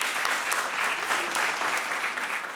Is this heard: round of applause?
yes